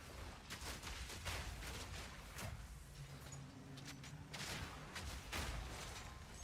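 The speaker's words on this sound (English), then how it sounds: "just launching the nades in is so nice" Grenades launched and exploding in the game Path of Exile 2, a dense run of sharp blasts and crackling bursts over a low rumble, with repeated impacts close together and no pause.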